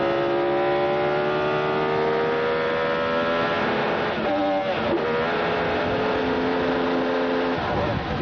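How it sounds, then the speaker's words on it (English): An IRL race car engine screams at high revs at the 1999 MCI WorldCom 200 oval race at Phoenix, a sustained loud onboard drone whose pitch stumbles and dips midway as the driver misses a gear shift, then climbs again. "Did you hear that? Kenny Bragg missed a shift."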